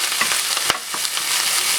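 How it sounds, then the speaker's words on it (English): Onions sautéing in a little olive oil, a continuous close sizzle and crackle with a brief stirring scrape partway through. "I have some onions, so I'm gonna put this in just a little taste of olive oil. I'm going to saute that a little bit."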